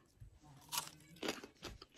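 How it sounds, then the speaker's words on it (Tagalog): Crispy charcoal-roasted pork belly is bitten and chewed, producing three or four sharp, close crunches in quick succession, with no talk over them. "Tikman nga natin tong pork belly kung malutong."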